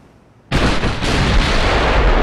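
USS Arizona's battleship main guns firing and hitting in a naval warfare game, a sudden loud boom after near silence that rolls into a sustained, rumbling roar of blasts and impacts.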